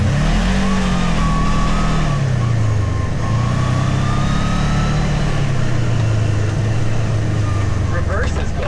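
A Kubota RTV XG850 Sidekick utility vehicle drives with its engine droning loudly and steadily, pitch rising and falling as it speeds up and slows, with wind and rattling throughout.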